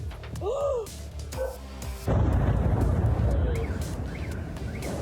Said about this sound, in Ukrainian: Зараз прямо сильний вибух був